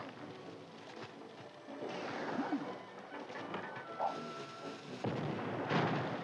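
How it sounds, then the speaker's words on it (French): Cannon fire in the video game MediEvil: several booming blasts and bursts sound over a noisy game backdrop, with stronger hits near the middle and end, and no talking. "Maintenant, on va pouvoir allumer en paix le canon."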